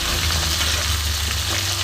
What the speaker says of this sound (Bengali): এবার আমি ভালো মতন এটাকে ভাজবো